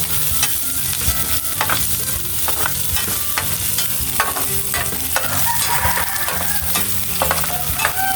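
Onions frying in a pan while being stirred, giving a continuous loud sizzle broken by repeated scraping and clattering stir strokes, with faint music beneath.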